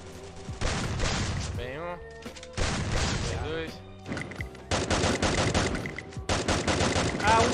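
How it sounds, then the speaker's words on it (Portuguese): Rapid bursts of gunfire in the mobile battle-royale game Free Fire, with dense volleys in several loud clusters separated by brief pauses, close and prominent. "Ah, um tiro!"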